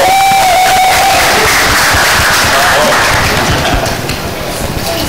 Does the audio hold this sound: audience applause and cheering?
yes